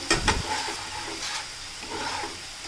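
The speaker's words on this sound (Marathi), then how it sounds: "आलं लसूण आणि मिरचीची पेस्ट आपल्याला राई आणि जिऱ्यामध्ये एकत्रित करून घ्यायची आहे आणि चांगली शिजवून घ्यायची" Ginger, garlic and chili paste cooks with mustard seeds and cumin in a pan, a quiet, soft sizzle with a few stirring scrapes near the start, faint and without speech.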